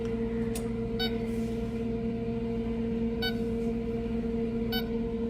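An oven timer gives three short, bright beeps spaced a couple of seconds apart over a steady background hum.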